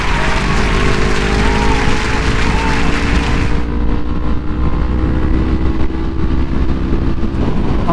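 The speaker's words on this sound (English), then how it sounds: "I like the way this engine sounds." A Yamaha MT-03 motorcycle fitted with an aftermarket exhaust runs loud and steady, its engine drone blended with heavy rushing wind noise, with faint rising engine tones early on.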